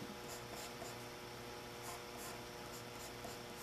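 A pencil sketches on paper, drawing a Minecraft character, in a continuous close scratching with light strokes repeating throughout and no voices.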